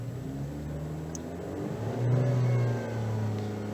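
2013 Chevrolet Cruze with a random misfire revving at high RPM, a steady close engine drone that swells briefly louder midway, then settles back, with no voices.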